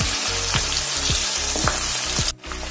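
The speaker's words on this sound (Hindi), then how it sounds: "अब इसमें डालेंगे कटा हुआ प्याज, 2 हरी मिर्च लंबे काट लिए हैं।" Chopped onion and long-cut green chillies fry in hot oil for a sweet-and-sour pumpkin curry, a loud continuous sizzle with a few stirring scrapes and a brief dip near the end.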